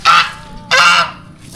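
Geese honk close by on a rural pond, two loud nasal honks separated by a short pause.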